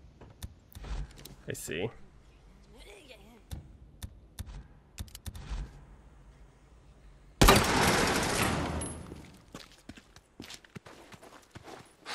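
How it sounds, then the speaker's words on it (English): Scattered bursts of rapid gunfire crackle through a quiet scene in the video game Days Gone, with a louder, sustained volley of shots erupting partway through. "I hear gunfire."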